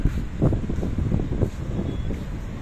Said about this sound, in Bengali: সমুদ্রের বাতাসের গর্জন শোনা যাচ্ছে।